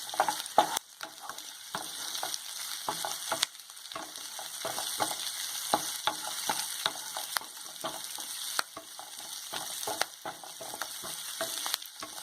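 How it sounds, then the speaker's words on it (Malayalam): Onions sautéing on a medium flame for soya chilli, a steady soft sizzle broken by frequent sharp scrapes and taps of a spatula stirring in the pan, close and quiet, no voices. "ഉള്ളി ഒന്ന് വഴറ്റി എടുത്തിട്ട് ഒരല്പം ഒന്ന് വെന്ത് കഴിയുമ്പോൾ ക്യാപ്സിക്കം ചേർക്കണം"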